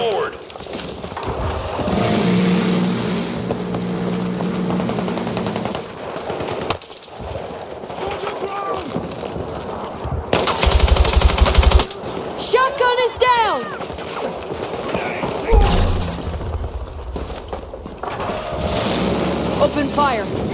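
Bursts of machine gun fire mix with explosions and a loud rushing blast in the Battlefield 6 war game, with shouted voices over the combat.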